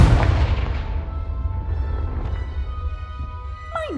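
Confringo blasting spell exploding in the game Hogwarts Legacy: a single heavy, close boom that decays into a long rumbling tail, with a faint bright chime rising near the end.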